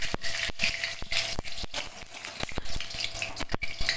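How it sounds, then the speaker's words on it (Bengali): Whole cumin seeds, a dried red chilli and a bay leaf sizzle in hot mustard oil, giving a steady close crackle with frequent sharp pops and spits throughout and no talking. "ফোড়নে দিয়ে দেব গোটা সাদা জিরে একটা গোটা শুকনো লঙ্কা আর একটা তেজপাতা"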